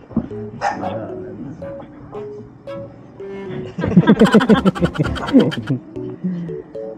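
An angry dog barks in a rapid, loud burst of several sharp yaps close by, with voices and other sounds around it before and after.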